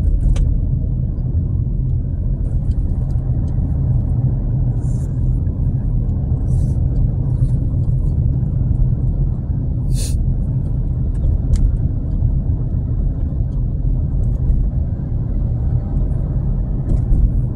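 A car climbs the Ortigas Flyover in slow traffic, giving a steady low road rumble with engine drone inside the cabin, and faint occasional clicks above it.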